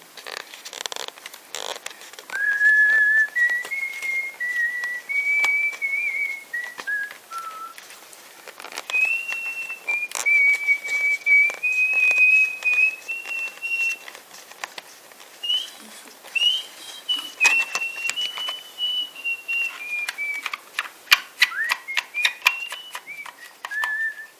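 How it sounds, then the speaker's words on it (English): Someone whistles a slow, melodic hymn tune resembling the German national anthem, clear and close, with soft rustling and clicks in the background. "what I was whistling was a song, a hymn, religious hymn"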